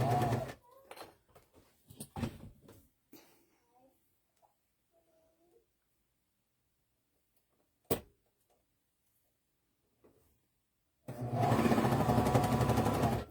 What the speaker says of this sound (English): we're going to sew this seam with the elastic in it